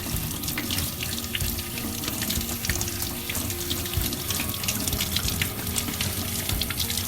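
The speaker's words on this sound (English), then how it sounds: "we're gonna wash the potatoes" Potatoes with skins on being washed under a running kitchen tap, a steady close gush of water splashing over them and into the sink without pause.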